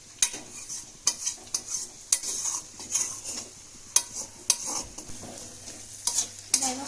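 Chicken with peeled garlic frying in a pan while being stirred, with steady sizzling under repeated sharp scrapes and clinks of a utensil against the pan at an uneven rhythm, close and clear.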